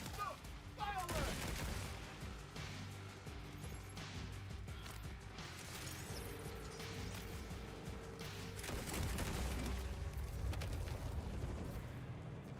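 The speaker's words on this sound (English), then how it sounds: "Fireworks!" Rapid crackling bursts and booms of fireworks inside a video game, a dense continuous barrage of pops and bangs running the whole stretch at steady loudness, with brief spoken remarks mixed in.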